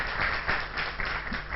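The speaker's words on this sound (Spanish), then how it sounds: "¿No le damos un aplauso a la gente de Guma que desinteresadamente nos ha enviado esto?" A church congregation claps together in a dense, steady wash of applause that holds at an even level throughout, with no break or fade.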